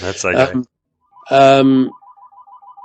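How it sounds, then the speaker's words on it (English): A telephone rings in a recording studio with a repeating electronic warble, fairly quiet and continuing behind and after a short spoken phrase. "Sorry about that phone ringing."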